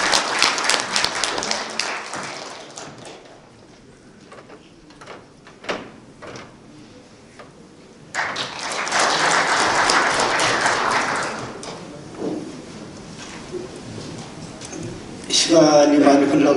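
An audience at a memorial ceremony applauds to welcome a lecturer, with bursts of clapping filling the hall, quieter stretches with scattered claps and movement between them, and a voice speaking near the end.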